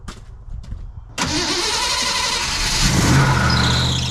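A 1982 Ford F150 pickup engine cranks and catches after a second of near quiet, then settles into a steady, close, rumbling idle that swells slightly toward the end.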